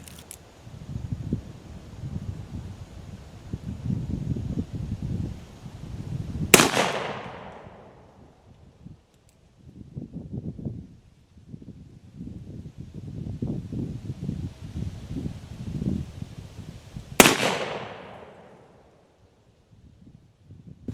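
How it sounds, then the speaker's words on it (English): An Armi San Marcos 1851 Navy .36 Sheriff revolver fires two loud, sharp shots about ten seconds apart. Each report has a quick decaying tail over steady low rumbling background noise. "it's time to take out some shaving cream with the 51 Navy Sheriff's model revolver."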